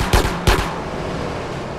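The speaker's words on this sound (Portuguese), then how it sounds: "estão atirando em mim" Gunfire in GTA San Andreas during a gang war: two loud, sharp shots ring out close together in the first half second, then fade into quiet background game ambience.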